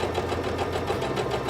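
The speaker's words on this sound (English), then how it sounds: "Okay, so I have everything under the sewing machine." A sewing machine stitching the seam of a fabric envelope cushion, a steady rapid mechanical whirr with an even chattering pulse, close and continuous throughout, with no talking.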